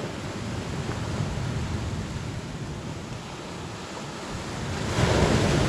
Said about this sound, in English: Big swell, some nice waves.